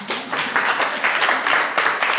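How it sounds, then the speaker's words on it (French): A short burst of lively applause from a conference audience for a participant, many hands clapping close and loud in an uneven rolling rhythm. "On applaudit Philippe"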